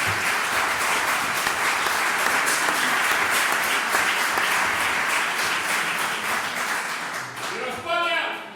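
Steady applause fills a hall as an audience claps at a book presentation in Spain, dense and continuous, thinning near the end as a voice begins speaking over it.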